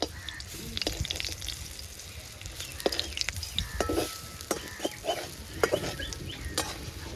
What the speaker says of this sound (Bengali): এরকম করে লাল লাল করে ভেজে নিতে হবে বড়াগুলা